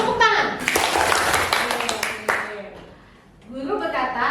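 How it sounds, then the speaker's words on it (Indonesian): Children clap their hands on a teacher's command during a classroom game, a dense burst of claps about two seconds long amid children's voices, fading before voices rise again. "guru berkata, tepuk tangan"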